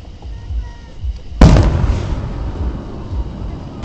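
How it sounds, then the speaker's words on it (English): A large firework bursts at a Magic Springs show in Hot Springs, Arkansas, with one sudden loud boom followed by several seconds of rolling, crackling rumble that slowly fades. "That's a huge firework."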